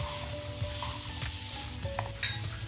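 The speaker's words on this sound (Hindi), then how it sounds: "अब हम इसमें वेजिटेबल्स डाल देंगे। Capsicum, American corns and carrot. अब हम इसे डाल के अच्छे से मिक्स करते हुए पकाएंगे।" Capsicum, American corn and carrot cook in a pan for white sauce pasta, giving a low, steady sizzle. A utensil stirs and scrapes through the vegetables with soft clinks, close and without talk.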